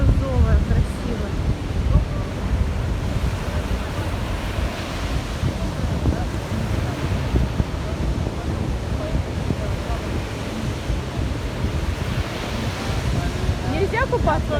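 Black Sea surf washes continuously onto the beach at Pionersky Prospekt in Anapa on an early morning, a broad steady roar mixed with wind buffeting the microphone, with brief high chirping calls near the start and end.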